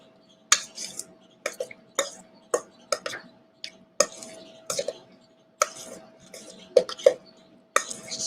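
A utensil stirs and folds a mixture in a bowl, giving sharp irregular clinks and scrapes against the bowl, close and distinct over a faint steady hum.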